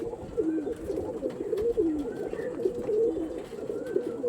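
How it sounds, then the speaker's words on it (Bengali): A Teramoni breed pigeon coos up close in a steady run of soft, rolling, throaty calls repeated several times, with no talking. "এটা হচ্ছিল অরিজিনাল টেরামনির পায়রা"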